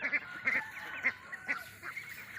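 Ducks let out to graze in the evening give repeated nasal honking quacks, about five distinct calls in an uneven rhythm, fairly close and moderately loud with faint background noise.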